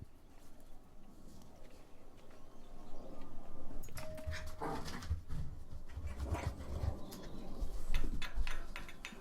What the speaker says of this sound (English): The dog's going wild all of a sudden.